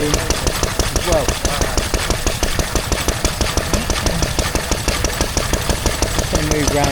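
A stationary engine running steadily at a show, loud and close, with a fast, even chugging beat and a busy outdoor crowd murmuring underneath.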